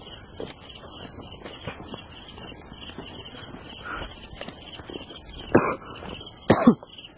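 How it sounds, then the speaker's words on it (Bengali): A person coughs sharply twice near the end, close and loud, on a riverside at night over a steady bed of crickets and insects. "কেমন জানি আমার কাশিটাই থামতেছে না।"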